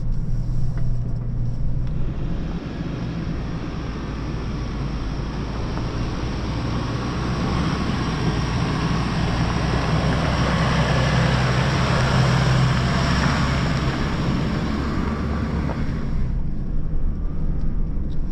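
A 2025 Toyota Prado 250 Altitude engine working hard while climbing off-road, a steady loud low rumble with rushing tire and wind noise that swells in the middle and eases off near the end.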